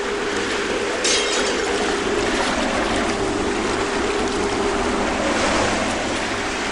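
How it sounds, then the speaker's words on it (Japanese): A tiny solo sailboat crossing the Pacific runs through ocean waves, producing a loud, steady rush of water and spray against the hull that swells slightly around the one-second mark and continues unbroken with no voices. "ヨットはたくましく波にも負けずに走っている"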